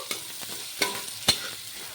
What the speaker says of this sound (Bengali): পেঁয়াজটাকে পুরো ব্রাউন ব্রাউন করে ভেজে নেবো